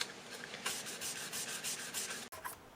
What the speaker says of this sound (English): I'm going to take this 1500 grit micro mesh and I'm just going to use my finger and get those horizontal scratch marks off of this